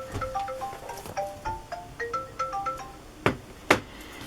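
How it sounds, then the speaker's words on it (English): Phone ringtone playing a tinkling melodic tune of short notes close by, ending with a couple of sharp taps. "Oh, there goes my phone."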